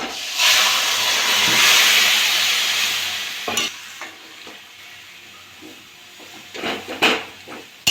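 Ash gourd stalks and potatoes hiss and sizzle loudly in hot spiced oil, a steady frying roar that eases after a few seconds into quieter crackling broken by spatula scrapes and clinks against the pan.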